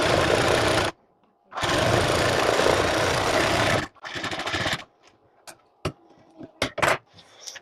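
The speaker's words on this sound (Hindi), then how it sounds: "इस पर हम बिल्कुल सीधी सिलाई लगा देंगे नीचे तक" A sewing machine runs a straight side seam down a blouse, its motor whirring in two long continuous bursts separated by a pause, followed by short scattered clicks and handling noises as the fabric is adjusted.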